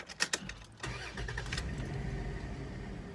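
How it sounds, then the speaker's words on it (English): A caravan engine cranks with a few sharp bursts, then catches and settles into a steady, loud idle close by, belt noise rumbling through. "all right, start it up"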